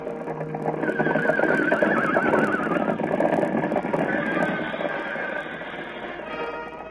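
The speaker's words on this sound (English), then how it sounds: "Now toward the ranch house comes another horse." Horses on a ranch in a radio drama sound effect: several loud, close whinnies and neighs over a steady clip-clop of hooves, with no voices.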